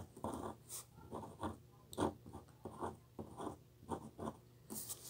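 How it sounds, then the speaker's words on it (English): A pen writes a name on a Valentine's card, producing close, quiet scratchy strokes in short irregular bursts with brief pauses between letters, and no talking. "so I'm going to write my name"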